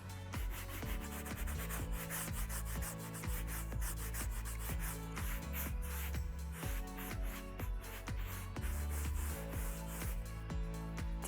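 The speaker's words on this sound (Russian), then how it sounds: "насколько я растираю воск, чтобы он переходил в дымку" A trowel or pad rubs wax steadily over a decorative bark-beetle textured plaster wall. The rhythmic scraping strokes run continuously at close range, with no talking.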